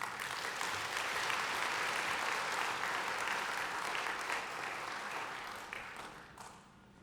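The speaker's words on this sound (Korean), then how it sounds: "우리 목사님 나오실 때 큰 박수로 환영하겠습니다" Sustained applause from a large church audience welcoming a pastor, a professor of a theological seminary, to the stage, dense and steady clapping that fades out near the end.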